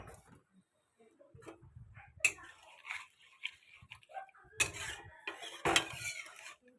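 Paneer is tipped into a pan of cauliflower curry and stirred, with close clattering and scraping of a spoon against the pan in irregular bursts separated by brief quiet gaps, and no voices.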